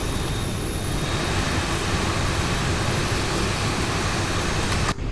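Jet airliner engines from X-Plane 11, a TUI Airways flight, roar as a loud, steady broadband drone, then cut off abruptly just before the end.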